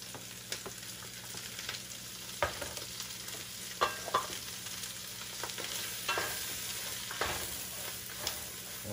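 Mushrooms and onions sizzle in olive oil in a cast iron pan with a steady crackling hiss, broken by sharp scraping knocks from stirring. No one speaks.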